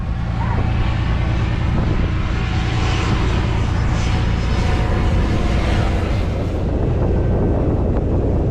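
A loud, droning float plane propeller engine roars continuously up close near Juneau, Alaska, with buffeting wind noise over it.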